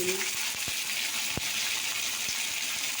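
Water pours steadily into a cooking pot of jute greens seasoned with salt and turmeric, a constant close rushing hiss with a few faint knocks and no talk.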